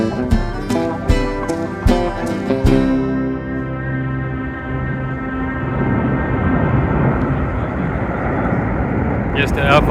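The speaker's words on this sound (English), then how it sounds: "those planes are very loud" Low-flying airplanes passing near an airport in a windy city district, a loud broad roar that builds and holds steadily, preceded by a few sharp clanks and rattles, with no talk over it.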